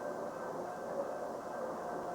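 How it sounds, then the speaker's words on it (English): The Union Pacific streamliner City of Los Angeles pulls into Omaha's Union Station in 1952, giving a steady, low, continuous rumble of rolling railcars at moderate distance. "the westbound City of Los Angeles pulls into Omaha's Union Station for a 10-minute stop"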